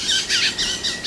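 Birds chirp outdoors in a series of bright, repeated bursts about every quarter second, fairly close and standing clearly alone.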